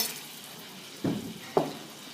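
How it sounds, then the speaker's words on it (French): Unsalted Normandy butter drops into caramelizing sugar in a pan, setting off two short bursts of sizzling over a steady low hiss, with no talking. "la sucre commence à caraméliser et dedans je vais mettre du beurre, sans sel"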